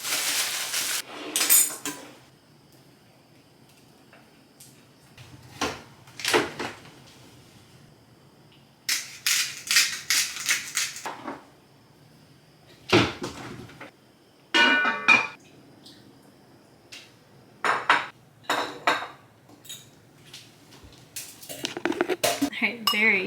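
Dishes and cutlery clink and clatter in a home kitchen while soup and other food is warmed for lunch, in scattered short bursts of clattering separated by quiet gaps.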